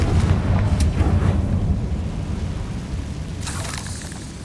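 A Confringo fire spell explodes in Hogwarts Legacy with a deep rumbling boom that decays slowly, followed by a brief brighter burst near the end.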